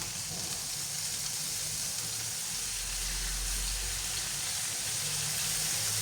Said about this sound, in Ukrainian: мілко нарізала свинину і вилажуємо сюди на сковорідочку і смажимо